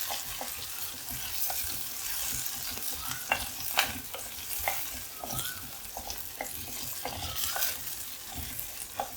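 Curry leaves, ginger and green chilli sauté in a pan for a raw mango curry, making a soft, quiet sizzle broken by repeated spatula scrapes and taps at an uneven pace, with no voices.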